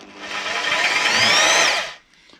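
A power drill bores into wood to make dowel holes for a chair's lid and back, one sustained rising whine of about two seconds, close and loud, then cutting off abruptly.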